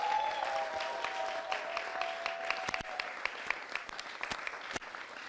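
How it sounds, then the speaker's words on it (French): Applause from an audience at a youth competition final, steady dense clapping throughout with a few sharper individual claps standing out near the end, a faint tone briefly audible at the start. "On applaudit, s'il vous plaît, Ernest et Jonathan."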